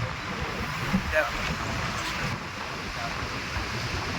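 Fast-flowing Lidder river of snowmelt water near Pahalgam, a steady, loud rushing roar mixed with wind and microphone buffeting, continuous throughout the recording.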